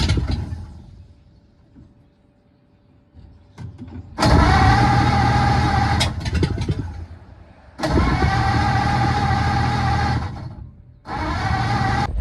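A long-idle 1953 Ford F-100 truck cranks, then fires up and runs in two loud bursts separated by a brief stall, followed by a third catch near the end, with no talking.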